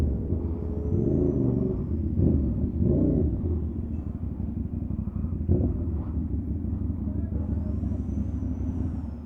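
A Veloce 500 with its catalytic converter deleted and a red exhaust idles and revs in a steady low rumble, swelling briefly in a few blips, with faint voices in the background.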